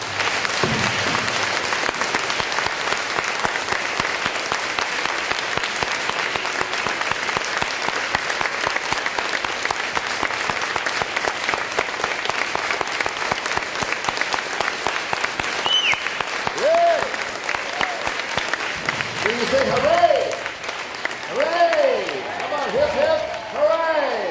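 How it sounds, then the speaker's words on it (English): Sustained applause from a large school assembly crowd, many hands clapping steadily for a long stretch before tapering off with a few echoing voices near the end. "let's all us, the rest of us, give them a big round of applause."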